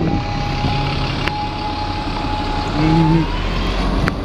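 Xela bus in Portsmouth idling with a steady engine drone, a high reversing beep sounding in short repeated tones over the motor, close and fairly loud.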